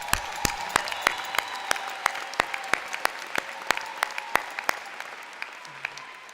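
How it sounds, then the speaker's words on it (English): A graduation audience applauds at the 2014 Merritt College ceremony, a crowd's steady clapping with loud individual claps landing close and evenly, gradually thinning toward the end. "Let's give them a big round of applause."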